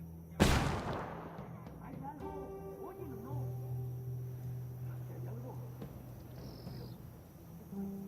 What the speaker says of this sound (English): Hey, throwing a flashbang.